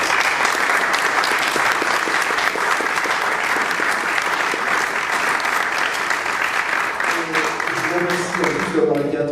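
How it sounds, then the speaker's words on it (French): Audience at a Disquaire Day record-shop event at the Mouans-Sartoux media library claps loudly and continuously, a dense wall of applause that tapers near the end as a voice begins speaking. "Je vous demande d'applaudir la médiathèque de Montsartou"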